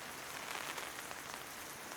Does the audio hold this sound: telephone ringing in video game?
no